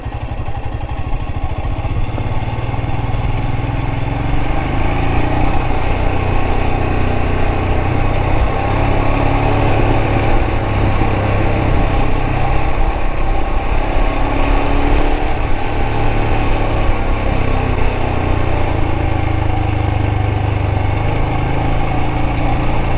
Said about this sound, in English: Right, bit of first gear, bit of clutch in, and around we go.